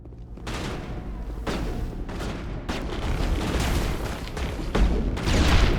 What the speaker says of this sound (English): The grenades take so long to detonate.